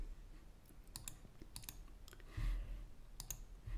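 Buttons on a TI-30 X calculator being pressed, heard as scattered light plastic clicks at an irregular pace, close and quiet, with no talking.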